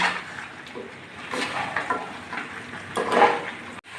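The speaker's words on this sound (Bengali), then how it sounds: "ঢাকনাটা খুলে মাঝে মধ্যে ভালো করে নাড়াচাড়া করে দিচ্ছি" Mutton stirred in a pot as it fries for mutton kosha, soft scraping strokes and gentle sizzling close by with a sharper clatter near the end.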